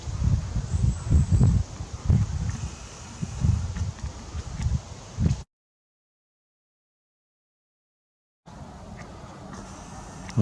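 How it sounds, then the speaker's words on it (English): Gusty wind on a hilltop buffets the microphone outdoors with low rumbling and rustling, then cuts to silence for a few seconds before the blustery noise returns. "It was a bit windy."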